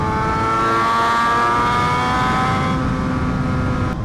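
A BMW HP4 Race motorcycle with a full exhaust system holds a loud, high, steady engine note close by, sustained without pause and with no talk over it.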